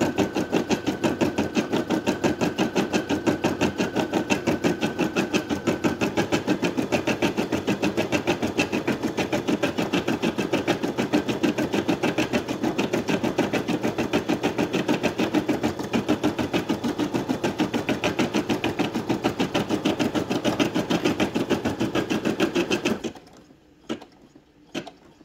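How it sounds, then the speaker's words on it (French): A Brother Innov-is M280d embroidery machine stitches at a fast, even rhythmic clatter for over twenty seconds, then stops abruptly, leaving a few faint clicks. "Voilà, la machine s'est arrêtée pour la première couleur."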